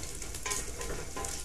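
Bacon sizzling and crackling in a pan as the base for corn chowder, a steady close hiss with brief stirring scrapes, no voices.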